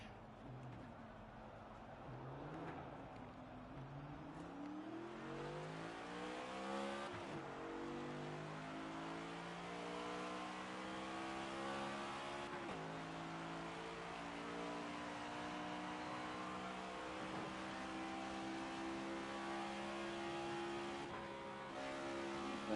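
Race car engine in NASCAR 25, driven backwards around the Charlotte track: a steady loud roar, rising in pitch through repeated upshifts with brief dips between gears, then holding a high sustained drone, no talking.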